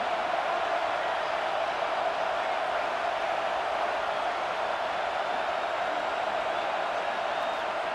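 Dense, steady roar of a large college football stadium crowd, constant and undifferentiated noise with no distinct voices standing out.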